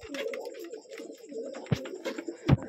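Pigeons coo in a low, rolling murmur at a backyard pigeon loft, with a couple of sharper knocks or flutters breaking in near the end; no speech.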